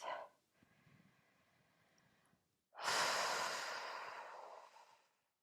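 A big exhale at the close of a yoga relaxation: a soft breath comes first, then after a short pause a long, loud, airy outbreath that slowly fades, close to the microphone.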